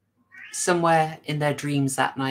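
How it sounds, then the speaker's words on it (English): A pet cat meows several times at home, its voice close and clear while a person keeps talking over it. "Sorry, that is my cat."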